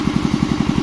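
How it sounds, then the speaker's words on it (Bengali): A pipe joining machine runs at a work site with a close, steady, rapid chugging pulse like a small engine. "এই আমাদের হচ্ছে পাইপ জয়েন দেওয়া মেশিন।"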